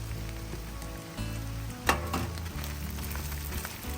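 Bacon cooks in butter with garlic and onion at a beach campsite, giving a steady, moderate sizzle and frying hiss with a brief clatter near the middle and no voices.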